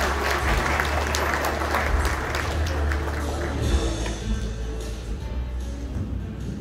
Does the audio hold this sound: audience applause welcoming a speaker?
yes